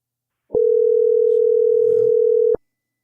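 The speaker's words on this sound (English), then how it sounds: "let's give Josh a call and see if we can get him on the phone this morning" A steady telephone dial tone while a phone call is being placed, a single unbroken pitch lasting about two seconds that starts and stops abruptly, loud and close, alone with no talking.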